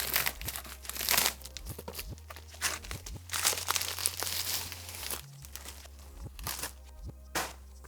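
Packaging for a Boya Mic 2 microphone is unboxed close up: soft crinkling, rustling and tearing in scattered bursts over a low steady hum, with no voices.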